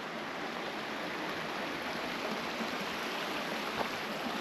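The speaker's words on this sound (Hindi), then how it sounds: "छोटी सी स्ट्रीम बह रही है पानी की" A small stream of water flowing in a valley near Keran village, a soft continuous hiss and burble heard close by and fairly quiet, with no talk over it.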